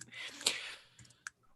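Computer keyboard keys click in a short, faint burst, a few taps spaced unevenly.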